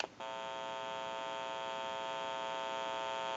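Electrical hum from an open amplifier in a test setup for a Western Electric 302 rotary desk telephone, a steady buzzing tone with strong harmonics that switches on abruptly after a brief click and holds unchanged.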